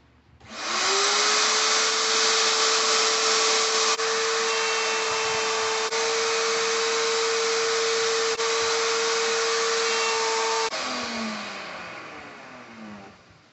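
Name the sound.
sanding a chamfer onto hardwood cutting board edges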